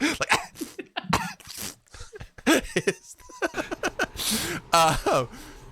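A voice mimics coughing in a series of harsh, bursty coughs and throat noises, loud and close.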